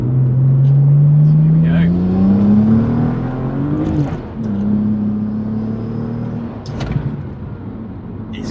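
A rear-wheel-drive BMW E90 engine drones and climbs steadily in pitch as it accelerates on a wet road, then drops briefly and pulls again, loud and close throughout.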